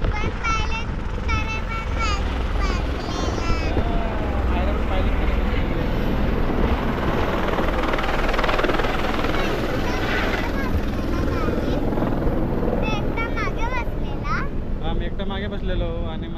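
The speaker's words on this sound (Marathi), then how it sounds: "बघा याच हेलिकॉप्टरने आम्ही आलो." A helicopter's rotors and engine thump and drone loudly and steadily nearby, on the approach to Vaishno Devi, while people talk throughout over the noise.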